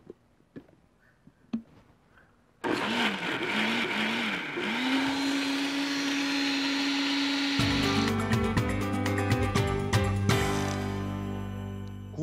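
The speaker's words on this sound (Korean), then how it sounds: "믹서에 넣어 주시고" After a few light clicks, a blender motor roars on loudly and runs continuously, its pitch shifting and grinding as it purees corn.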